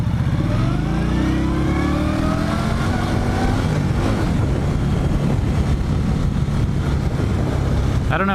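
A motorcycle accelerates hard in first gear, its engine revving loud and rising in pitch over several seconds before dropping back into a steady rumble.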